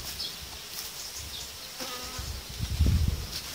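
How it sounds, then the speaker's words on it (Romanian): Honey bees buzz at the hive during honey extraction, a faint, steady insect drone heard close by that swells briefly louder toward the end. "Este o albină"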